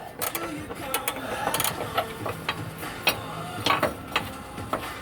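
Wrench and metal clicks from a bolt and nut being removed on a Subaru Forester control arm, a series of sharp, close ratcheting ticks and clanks in an irregular rhythm, with faint background noise.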